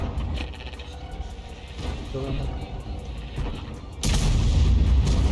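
A tank cannon in a video game goes off with a sudden heavy, loud boom near the end, following a stretch of rumbling engine and battle noise, with someone talking over it.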